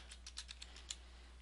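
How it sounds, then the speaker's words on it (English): Quick, soft keystrokes on a computer keyboard, about eight taps in under a second, over a low steady hum with no talk. "And just go ahead and type in here"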